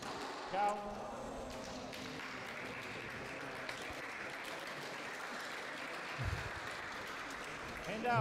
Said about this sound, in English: Another gasp from the crowd and some uncertain clapping